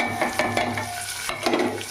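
Onion and whole spices such as cinnamon, cardamom and cloves fry in a pan for a spicy country chicken curry, giving close, loud sizzling with quick stirring scrapes and clinks.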